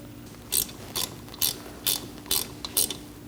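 A ratchet wrench tightens a speed sensor bolt on a 2000-2006 Mini Cooper rear wheel hub, six short, evenly spaced metallic clicking bursts, close and clear with no talking.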